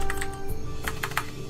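Typing on a computer keyboard during an online game session, a short burst of close, crisp key clicks in uneven rhythm, with no voice over them.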